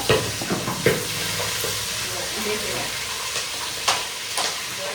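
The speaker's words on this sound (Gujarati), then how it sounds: "અત્યારે આપણે સૂકી તુવેરનો વઘાર કરી રહ્યા છીએ" Dried pigeon peas tempered in hot oil with green and dry chillies, mustard seeds and cumin give a steady sizzle with intermittent stirring clatters and pops, close by and uninterrupted.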